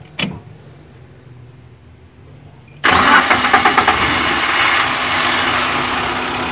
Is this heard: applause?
no